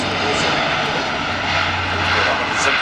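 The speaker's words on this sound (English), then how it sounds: "this particular aircraft flying was the third public display at Farnborough" A new-generation Airbus A400M military airlifter flying a display at the Farnborough air show, its turboprop engines producing a loud, steady roar throughout, with a commentator speaking over it.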